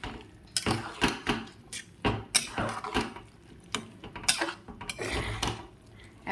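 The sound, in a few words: stirring the ghugni masala in a pan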